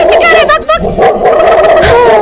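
A voice imitates a dog barking in a few quick, loud bow-wow yips, mixed with speech and background noise close to the listener.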